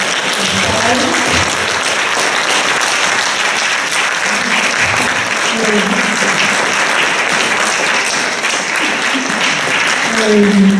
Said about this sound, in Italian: Io direi che possiamo rifare un grande applauso a questi.